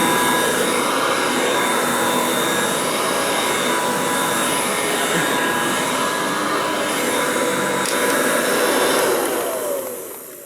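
Vacuum cleaner fitted with a metal fan running at a steady, loud, whining roar for several seconds before its motor begins to wind down at the end.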